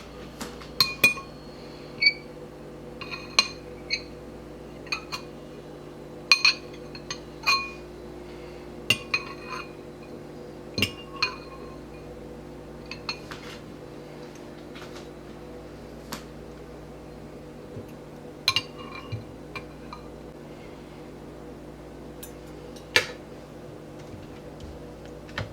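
A normal metal spoon pressing strawberry seeds out of fruit for homemade strawberry lemonade, giving sparse, sharp clinks against a bowl at irregular intervals over a quiet hum.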